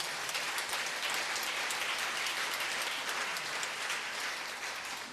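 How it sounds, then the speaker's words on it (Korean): A church congregation applauds in thanks to God during a sermon, a dense, even wash of clapping that holds steady for several seconds. "박수로 하나님께 감사드리겠습니다"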